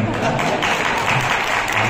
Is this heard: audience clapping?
yes